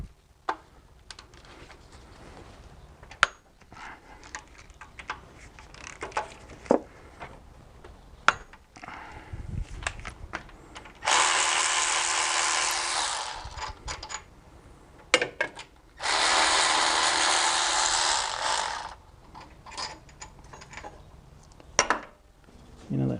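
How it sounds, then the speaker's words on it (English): A ratchet works on a Kia Sportage engine during cylinder head removal, loosening the fan pulley bracket: scattered clicks and clanks of tools on metal, then two sustained bursts of loud rapid ratcheting, each a few seconds long. "I don't know how much torque I can give the ratchet in there before it breaks"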